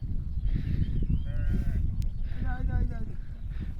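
A herd of sheep being let out bleats in two or three wavering calls at mid distance over low rumbling background noise.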